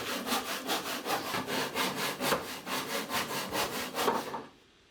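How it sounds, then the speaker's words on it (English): Hand saw cutting through sapele and ash wood for a mallet head: steady rhythmic back-and-forth rasping strokes, close and fairly loud, about a dozen strokes before stopping abruptly. "I cut down 2 pieces of sapele and a piece of ash to form the parts of the mallet head."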